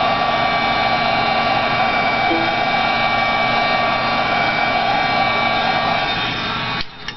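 An old, battered Marvy heat gun blows continuously at close range while drying a layered paper dragonfly craft, a loud steady whooshing whine that cuts off near the end.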